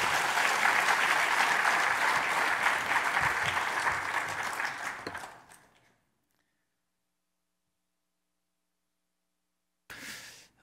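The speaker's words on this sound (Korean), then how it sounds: "우리 다시 한번 박수할까요?" A church congregation applauds together at a worship service, the clapping loud and dense for about five seconds before fading to silence, with a brief burst of applause returning near the end.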